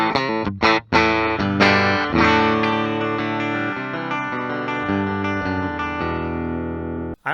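Gibson Modern Marauder Les Paul electric guitar on the bridge pickup, a distorted, sustained chordal riff with a few quick strums at the start, loud and alone, ringing out before cutting off.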